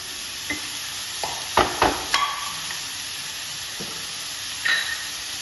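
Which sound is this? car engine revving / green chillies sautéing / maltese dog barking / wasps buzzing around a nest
green chillies sautéing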